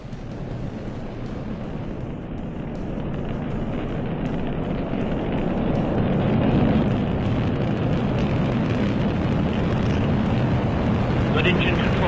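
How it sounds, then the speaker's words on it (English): An Orion spacecraft rocket lifts off at dawn with a loud, sustained engine roar. The deep rumble holds steady and swells slightly over about twelve seconds. "5, 4, 3, 2, 1. And liftoff at dawn."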